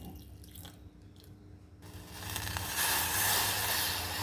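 Water, a quarter cup, is poured onto jaggery in a kitchen, heard as a close, rising rush of liquid that starts after a quieter opening and keeps flowing steadily to the end.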